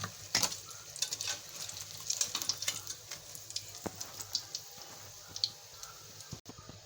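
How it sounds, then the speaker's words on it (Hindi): Chicken vegetable spring rolls fry in hot ghee, giving a steady close sizzle with small crackles and pops throughout and no voices. "बाकी मज़ीद घी गर्म है, बाकी के भी हम इसके अंदर डालते हैं।"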